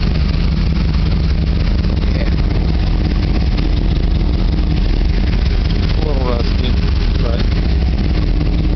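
A 1987 Chevrolet Camaro IROC Z-28 with ram air intake boxes and Flowmaster mufflers idles steadily, a dense continuous low engine rumble with intake sucking, while a person talks over it.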